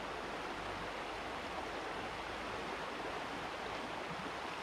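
The Credit River near Mississauga flows steadily with a continuous, broadband rush of moving water, even and unbroken throughout with no voices over it.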